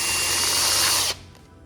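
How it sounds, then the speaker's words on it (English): A power drill fitted with a hole saw bores loudly and steadily into wood, whining close by for about a second before cutting off abruptly, leaving quiet room tone. "I'm going to just drill over here"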